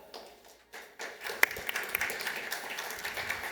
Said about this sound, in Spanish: demos la bienvenida con un fortísimo aplauso a José Duato